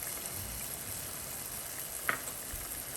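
Jamaican brown stew fish sauce simmering in a pot with a steady soft sizzle and bubbling hiss throughout, plus one brief tap or plop near the middle as seasoning drops in.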